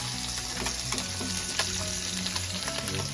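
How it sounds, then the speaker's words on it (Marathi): Pomfret and mackerel frying in a Koli-style home kitchen, a steady close sizzle and crackle of hot oil with faint stirring clatter, no voices. "कांदो फ्राय कांदो पापलेट आणि बांगड्यांची फ्राय रेडी झालेली आहे"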